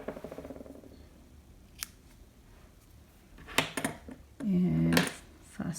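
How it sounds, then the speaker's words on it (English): Scissors snip through crochet yarn while finishing a crochet button, giving a few short, crisp cuts spaced over several seconds, with a louder, longer snipping burst near the end; no talking. "cut this yarn"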